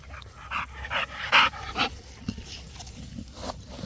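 An American bully dog on a chain pants rapidly and lets out short whimpers at close range, the breaths coming in uneven bursts with a few louder, sharper whines.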